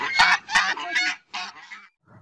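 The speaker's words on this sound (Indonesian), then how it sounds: "Ternyata ini angsa." A goose honks loudly in a run of harsh, nasal calls close by, four or five quick bursts followed by fainter honks, with no talking over them.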